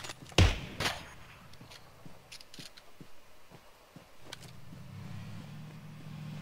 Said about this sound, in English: The car is coming, or that's you?